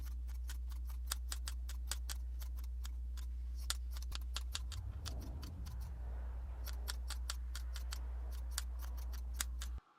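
Scissors trimming the pile of a small tufted rug section, giving a long series of crisp, close snips in quick, fairly regular succession over a low steady background hum.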